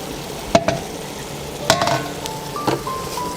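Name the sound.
stirring chicken curry with curry leaves in a pan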